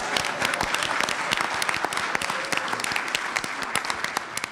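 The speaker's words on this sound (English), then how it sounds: "let's give Chief Curry a big round of applause then." A school board meeting audience gives a round of applause for a police chief, dense steady clapping from many hands that holds throughout and tapers slightly at the end, with no voices over it.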